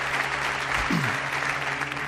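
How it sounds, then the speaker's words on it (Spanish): Audience applause for the first guests at a live evening special on mysteries, a steady broadband wash of clapping across the room while a voice speaks greetings over it. "os pido un aplauso para ellos, los primeros invitados, mientras vamos cambiando"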